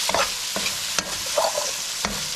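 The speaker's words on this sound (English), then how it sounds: "Let the shrimp absorb all the flavors and everything else to cook up." Shrimp and pumpkin sizzle steadily in a pan, with several distinct scraping stirs of a utensil breaking through the close, continuous frying hiss.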